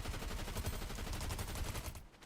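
Fast bursts of gunfire from a gun in the video game Fortnite, dense and continuous, then cutting off briefly near the end.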